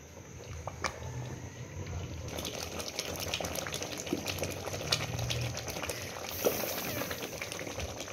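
Steady bubbling and spitting of turnips cooking in a pot, with soft sizzles and small pops continuing throughout at moderate distance.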